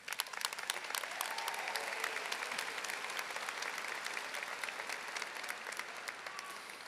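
A large graduation ceremony crowd at Arlington High School applauds steadily for several seconds, a dense, even wash of many hands that sounds somewhat distant in a big venue, with no speech over it.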